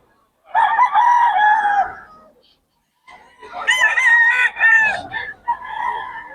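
Two roosters crow one after another at a market day in Bocaue, loud and near, the second call longer and more ragged, with a short silence between them.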